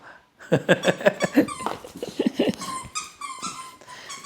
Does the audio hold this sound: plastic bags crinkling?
no